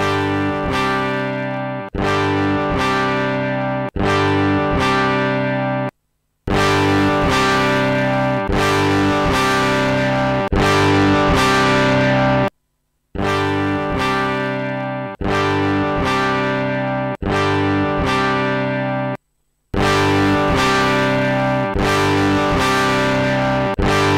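A distorted electric guitar plays a repeating loop through an amp, with thick, buzzing chords separated by short silent breaks.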